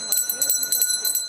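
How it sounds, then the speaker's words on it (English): Salvation Army Red Kettle Drive handbell rung outdoors in Newtown, bright repeated clanging strokes in quick rhythmic bursts, loud and close. "And bells are still ringing in Newtown."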